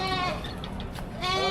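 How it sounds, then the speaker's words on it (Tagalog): Goats bleat at a livestock auction in Padre Garcia, Batangas, two or three loud, wavering cries close by, the last one long and strong, over a busy background murmur. "Malalaking mga kambing."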